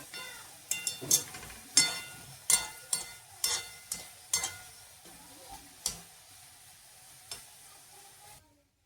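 Onion fries in a pan for murmura chivda while a spatula stirs it in a rhythmic run of about a dozen sharp scraping clinks. The strokes fade gradually over a faint sizzle until the sound stops.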